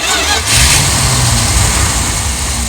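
An RV engine with an idle problem and over-advanced timing catches again after stalling, then settles into a loud, rough, rumbling idle close by.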